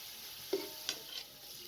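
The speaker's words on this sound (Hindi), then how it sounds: "1 कप कुकिंग ऑयल शामिल कर दें, साथ में प्याज डाल दें।" Onions frying in a pot of cooking oil over medium flame, a steady soft sizzle with a few brief stirring clanks, faint and close, no voices.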